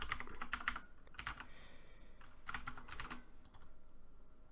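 Fingers tap out quick bursts on a computer keyboard, soft rapid clicking in clusters separated by short pauses against a faint steady background hiss.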